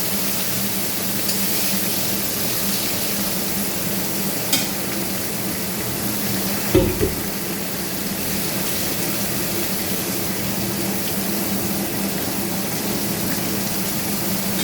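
Three fish heads fry in hot oil with a steady, continuous sizzle throughout and a single brief clatter partway through. No voices are heard.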